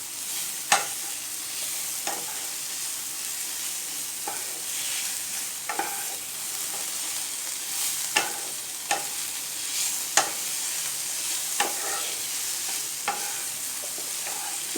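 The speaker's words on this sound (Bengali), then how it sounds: "সব জিনিসগুলোকে ভালো করে মিক্সড করে নেব।" A spoon or spatula stirs and mixes paneer fried rice ingredients in a hot pan, steady sizzling frying underneath with regular scraping strokes and sharp clacks against the pan, loud and close, no voices.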